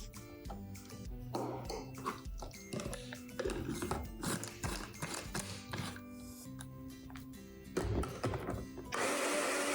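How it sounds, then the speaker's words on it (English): An electric blender whirs as it blends a strawberry jam vegan ice cream mixture, the motor roaring up loudly near the end after a series of clunks and knocks. "I blend them up well, but leaving strawberry jam chunks might be nice too."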